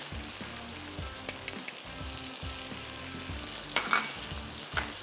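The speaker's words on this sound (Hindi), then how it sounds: "और बस पहले इनको थोड़ा ज़रा करके हल्का सा फ्राई करेंगे।" Spices including chili, garlic powder and crushed red chili frying lightly in a pan for chapli kabab, a steady close sizzle with soft rhythmic stirring and scraping throughout, no talking.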